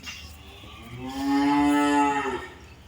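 A single long, low moo from a Holstein Friesian dairy cow rises and fades over about two seconds, close and clear.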